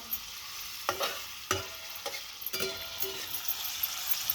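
Onion sautéing in a pan over a rustic wood-fired stove gives a soft steady sizzle, punctuated by several sharp scrapes of stirring, close up with no talking.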